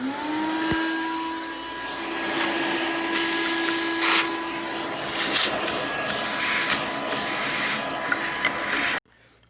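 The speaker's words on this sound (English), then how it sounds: "So I'm gonna get a vacuum up in here and vacuum all that stuff out." A vacuum cleaner nozzle sucks crumbling debris out of a removed Chevrolet Cobalt headlight housing, a close, steady whining roar with rattling bits for about nine seconds before cutting off.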